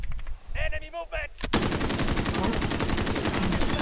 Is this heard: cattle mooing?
no